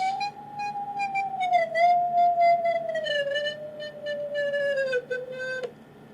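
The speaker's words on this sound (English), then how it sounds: "Let me hear you the sound of electrons." A steady, bright electronic tone with rich harmonics, made audible from individual electrons tuning a vibrating carbon nanotube, slides and steps gradually lower in pitch, heard alone, then cuts off abruptly near the end.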